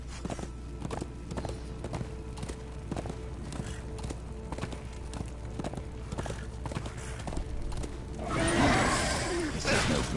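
Horse hooves clip-clopping in Darksiders 2, a steady rhythmic trot of close hoofbeats over ambient game sound, swelling into a louder rushing noise near the end.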